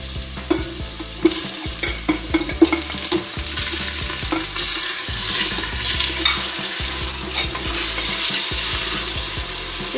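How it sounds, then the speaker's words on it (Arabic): Chicken pieces frying with onion and garlic in a pan for a chicken soup, giving a steady bright sizzle with repeated stirring scrapes and clinks throughout, close and fairly loud with no talk. "الدجاج نتاعنا يتقلى شويه في البصل والثوم."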